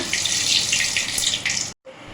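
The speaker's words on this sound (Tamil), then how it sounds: "கடுகு பொரிஞ்சிருச்சு." Mustard seeds spluttering in hot oil for Tamil egg rice, a dense continuous hiss and crackle close by, holding steady for nearly two seconds before a sudden brief break, then resuming more softly.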